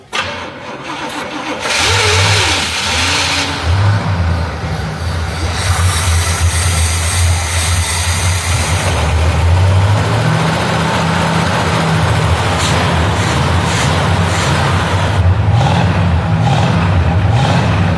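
An abandoned Pontiac GTO that had sat for 12 years cranks and fires up, its engine catching after a brief start and then running loudly and steadily with rising revs, close by and alone.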